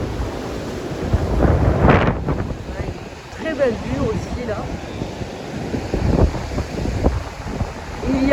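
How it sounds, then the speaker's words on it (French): Strong wind on the north coast of Gran Canaria roars and buffets the microphone, with choppy ocean waves crashing underneath and a few brief voice-like sounds. "il y a du vent."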